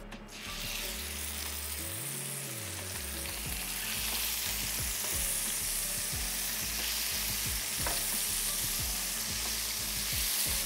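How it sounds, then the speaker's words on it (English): Scallops searing hard on one side in hot oil in a pan, a loud, constant sizzle that fills the whole stretch, with faint clicks and small spatters scattered through it and no talking. "we're gonna get the scallops in the pan, and I'm only gonna sear these on one side"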